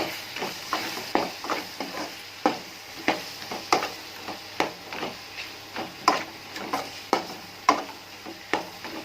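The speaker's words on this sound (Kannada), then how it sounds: "ಇವಾಗ ಇದನ್ನು ಚೆನ್ನಾಗಿ ಮಿಕ್ಸ್ ಮಾಡಿ" Mango pickle with turmeric and chili powder being stirred in a pan, a spoon scraping in regular quick strokes over a soft hissing sizzle, close by.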